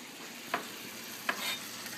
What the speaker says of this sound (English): So you can hear that starting to sizzle already.